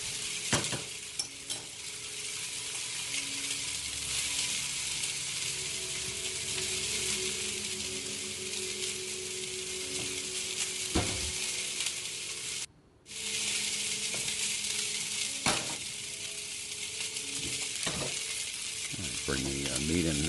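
Country style ribs fry in a pan with a steady, dense sizzle that lasts throughout. Occasional utensil knocks and stirring clatter break in, and there is a brief dropout partway through.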